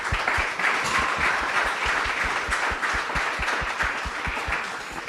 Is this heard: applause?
yes